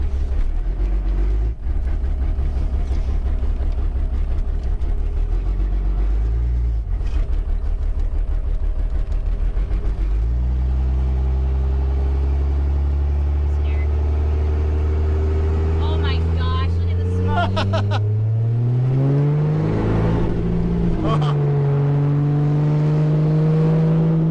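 Truck fitted with a 5.9 12V Cummins diesel engine rumbling loudly and then accelerating, its engine note climbing through the gears, with a voice talking over it at times.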